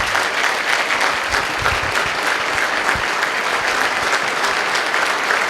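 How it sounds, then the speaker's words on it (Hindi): Sustained, loud audience applause filling the room at an entrepreneur talk with students, welcoming a guest to the stage, steady clapping throughout with no voices over it. "एक बार जोरदार तालियां होनी चाहिए।"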